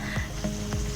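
Potato slices fry in hot oil for spicy potato chips, a dense, steady sizzle with continuous crackling bubbles, close and fairly loud.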